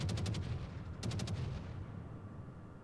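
Anti-aircraft guns on the British battleship HMS Vanguard firing at fighters in World of Warships, two quick bursts of sharp rapid pops over a steady low rumble of engine and sea noise.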